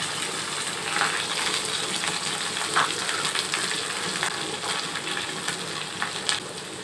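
Spice paste of tomato, dried red chili and ground nuts frying in a pan for paneer curry, a steady close sizzle with faint stirring scrapes.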